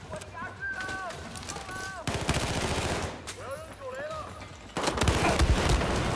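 Rapid bursts of gunfire in the video game Team Fortress Classic crackle in repeated volleys, with tonal game sounds in between and players talking over the shooting.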